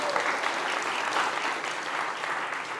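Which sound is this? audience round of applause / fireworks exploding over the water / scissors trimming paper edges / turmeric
audience round of applause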